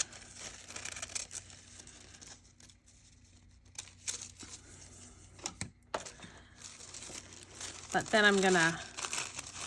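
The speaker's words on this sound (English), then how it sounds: "tear this piece off and put it down here" Soft rustling and crinkling under quiet speech, ending in a brief, louder rip of paper being torn.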